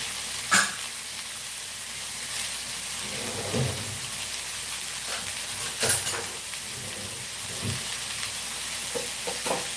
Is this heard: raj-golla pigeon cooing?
no